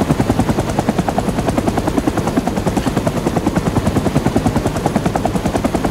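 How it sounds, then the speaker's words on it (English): A helicopter in the video game Rising Storm 2, its rotor chopping in a fast, steady rhythmic thump that is loud and continuous, with no voices over it. "your actual helicopter is gonna start flailing around"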